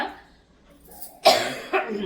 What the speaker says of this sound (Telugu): ఇదిగోండి ఇట్లా దగ్గుతోని